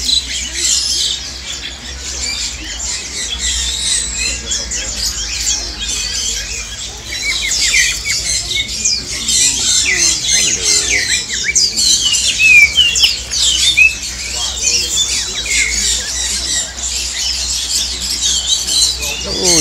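Caged birds at the Mong Kok bird market in Hong Kong squawk and chirp continuously and densely, a loud, busy chorus of overlapping calls throughout.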